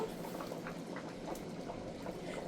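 Water for biryani rice heats in a pot with a splash of soybean oil, a soft, steady low bubbling and rumble that stays faint and even throughout, with no talking.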